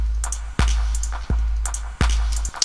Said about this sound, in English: we'll just send the ping pong delay to the reverb